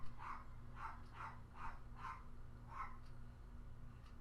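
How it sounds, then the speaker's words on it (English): A dog barks at the mail carrier somewhere off in the distance, giving about six faint, evenly spaced woofs over a steady low hum. "he barks about the mail lady, and he barks about mail"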